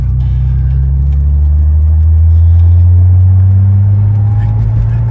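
A 1979 Porsche 930 Turbo engine pulls steadily in second gear, a loud, continuous low rumble from inside the car that rises slightly partway through.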